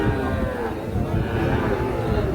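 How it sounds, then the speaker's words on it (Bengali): Two Sahiwal bull calves at a cattle market in Cumilla give a long, deep, continuous moo, loud and close, with faint crowd chatter behind. "আমরা এখানে দুটো শাহিওয়াল জাতের ষাঁড় বাছুর দেখছি"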